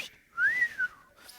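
A voice imitates a wolf whistle aimed at a beautiful angel, one clear rising then falling whistle, close and fairly loud, standing alone without other sound.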